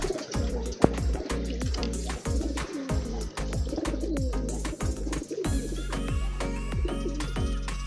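Pigeons coo repeatedly in soft, rhythmic phrases, several birds overlapping at close range, with faint chirps and some background rustling.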